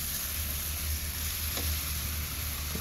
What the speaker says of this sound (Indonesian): Kita campurkan dan tumis hingga dagingnya berubah warna.